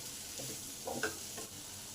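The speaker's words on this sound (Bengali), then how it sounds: "এবারে পেঁয়াজটার সঙ্গে আলুটাকে পাঁচ মিনিট ভালো করে কষে নেব" Potato pieces fry with onions in a pan, giving a soft continuous sizzle with a few light scrapes of stirring near the middle, quiet and steady throughout.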